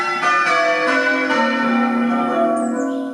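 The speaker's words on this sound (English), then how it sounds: "Bell ringers at the village church are practising for the celebratory service on Sunday" The bells of a village church in Butterton ring out during a bell ringers' practice, clear overlapping peals with a long ringing sustain and no voices.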